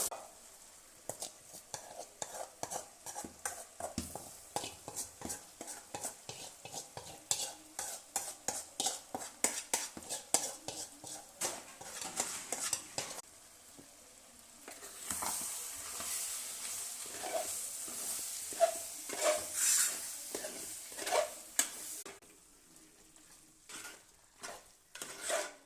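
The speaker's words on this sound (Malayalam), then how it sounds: "കടുകൊന്ന് താളിച്ചെടുക്കാം." Mustard seeds are tempered in a pan for a thick, dry Kerala pork curry, giving a faint sizzle with rapid crackles and spoon scrapes, swelling into denser frying hiss in the second half, with occasional soft murmurs.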